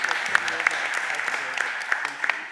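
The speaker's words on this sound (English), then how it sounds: "Let's give that a round of applause." Applause at a Philadelphia City Council meeting rises as a steady wash of many hands clapping, with sharper individual claps standing out, while a voice carries on beneath it.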